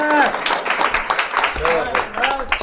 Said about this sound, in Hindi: एक बार हमारे सर के लिए जोरदार ताली होना चाहिए।